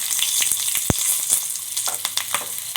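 Garlic cloves and onion fry in a pan with a constant close hiss and crackle, broken by a sharp knock of a spoon against the pan and small scraping taps.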